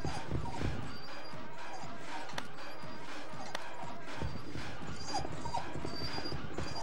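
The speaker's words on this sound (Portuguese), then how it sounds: "o cachorro tá assustadão" Frightened dog whimpering and yelping in the PS2 horror game Haunting Ground, short whines and yips repeating over a dense, busy game soundtrack with scattered thumps.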